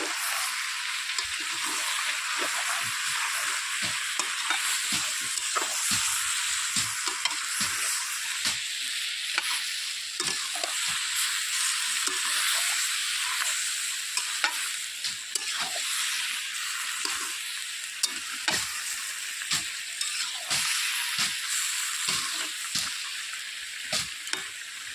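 Ginger and spices frying in a pan over a hot wood fire, a steady loud sizzle running throughout with frequent stirring scrapes and pops, no voices.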